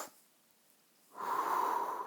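A single long breath during balance exercises in a strength and flexibility practice, near and fairly soft, starting after a brief pause and holding steady as a breathy rush.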